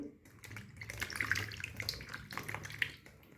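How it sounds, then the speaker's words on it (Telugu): Water splashes and trickles quietly in a sink as mushrooms are rinsed by hand, close and soft. "ఇలా వాటర్లో వేసుకొని బాగా నీట్గా కడుక్కోవాలి."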